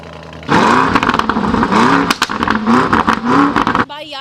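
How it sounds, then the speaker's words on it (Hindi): A Lamborghini car's exhaust roars loudly and close up as the engine is revved hard in repeated rising and falling surges, then cuts off abruptly near the end. "जेन्युइनली बड़ा मजेदार एग्जॉस्ट है इसका, बहुत ही प्यारी सी आवाज आती है।"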